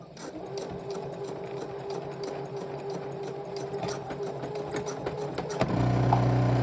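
A sewing machine sews a zipper, running steadily with a fast, even mechanical whir, close up, then the pitch shifts and the motor drones louder near the end.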